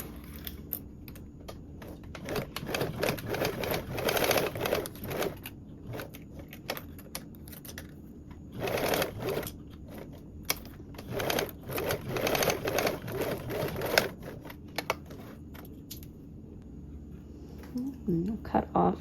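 A sewing machine stitches a seam with a 3/8 inch allowance, running in short clattering bursts separated by quiet gaps. It sounds close and moderately loud.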